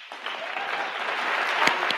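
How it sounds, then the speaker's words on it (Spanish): Audience ovation at a literary festival event honoring writer Juan Villoro, dense crowd applause swelling from a quieter start to a full, steady clapping roar with a few sharper claps standing out near the end. "Cualquier ovación es poca para Juan."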